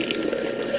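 Water gushes steadily from a freshly repaired tap, a continuous close splashing stream with no talking over it.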